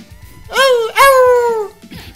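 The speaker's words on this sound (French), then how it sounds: "On dirait un petit chien." A small dog in the Spider-Man video game lets out two close, loud yelping whines that slide downward in pitch, followed by a brief softer sound at the end.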